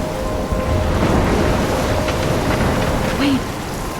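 A loud thunderstorm in the Life Is Strange video game, with heavy, constant rain pouring and low rumbling throughout, and a faint vocal sound near the end.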